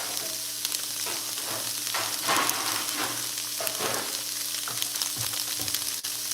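Tofu sizzling and frying steadily in a pan during a live home cooking session, a continuous crackling hiss with faint stirring, no talking.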